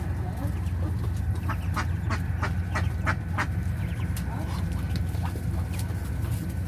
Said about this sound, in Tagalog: maingay yun no so itik itik maingay yan ay itik